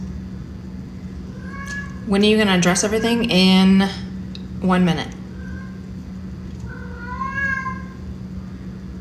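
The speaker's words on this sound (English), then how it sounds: "he's gonna have to keep meowing" A hungry cat gives a few meows, close and fairly loud, with a person speaking between and over them.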